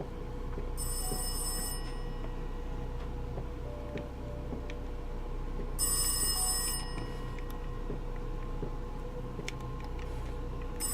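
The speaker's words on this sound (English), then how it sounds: "Apparently that's it, the phone's ringing." A telephone rings inside the video game Rise of Insanity, two bursts of electronic bell ringing a few seconds apart over a low, steady ambient hum with faint ticking, no voices.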